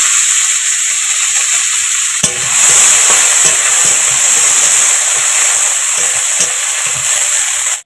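Cashews and peanuts frying in a pan, a loud, continuous hiss and sizzle with occasional stirring scrapes, heard close up and alone.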